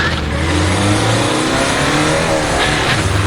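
A car engine revs hard during a chase scene, loud and close, its pitch climbing and dropping as it accelerates, with a faint tire squeal and no talking.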